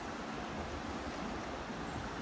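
The Aare river flows through Interlaken in a steady, full rush of water that holds at an even level from start to finish, with no voices over it.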